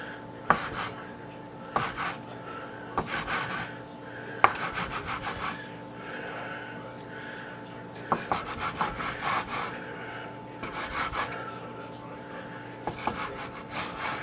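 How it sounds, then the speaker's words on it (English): A metal bench scraper chops dough into small pieces on a work surface for a sauerkraut, sausage and potato soup, giving repeated short scraping strokes in irregular bursts, close and moderately loud, with no talking. "So I'm going to take my bench scraper and I'm going to cut these in little pieces."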